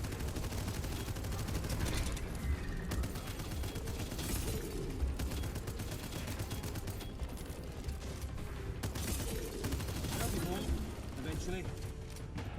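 Sustained gunfire from a weapon in the video game Abyssus, rapid and dense shots running continuously at a steady level with a player talking over the shooting.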